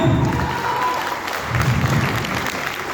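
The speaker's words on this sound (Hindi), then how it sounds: "ये मेरी बहन के लिए बहुत कम ताली है दोस्तों।" A seminar crowd in a hotel hall claps steadily for a woman being honoured, fairly loud continuous applause with a few voices mixed in at the start.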